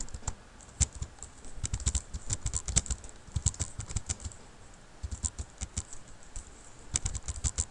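Code being typed on a computer keyboard, a steady run of quick, close key clicks in irregular bursts with short pauses, no voices.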